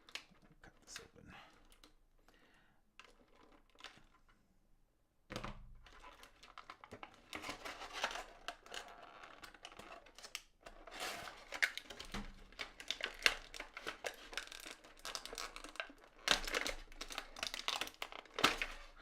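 A package being cut open and unwrapped, with bursts of crinkling plastic and tearing close by, quiet at first and then busier and louder.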